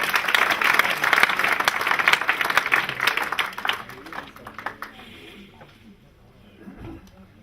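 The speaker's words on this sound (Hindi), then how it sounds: "आप भरपूर तालियों से इनका इस्तकबाल कीजिए" An audience at an Urdu poetry program in a hall greets a poet with loud, dense applause that gradually thins out and fades, with a voice speaking briefly near the end.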